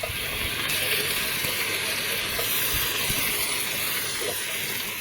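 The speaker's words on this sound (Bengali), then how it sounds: "পেঁয়াজ কুচিগুলো আমরা গোল্ডেন ব্রাউন করে ভেজে নিব।" Chopped onions sizzle steadily in hot oil, the same oil just used for frying potatoes, as part of making mutton biryani; a continuous close hiss and crackle runs throughout with no talking.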